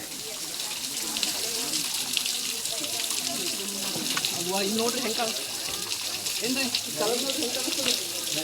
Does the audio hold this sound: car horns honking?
no